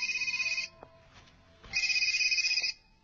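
A mobile phone ringtone sounds in two bursts of bright repeating electronic tones, separated by a short quieter gap with faint background sounds, ringing close and clear.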